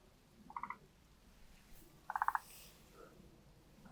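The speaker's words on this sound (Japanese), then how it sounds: "カエルの鳴き声が。" Frogs croaking at a garden pond, short pulsed trains of calls repeating every second or two over faint background noise, fairly distant.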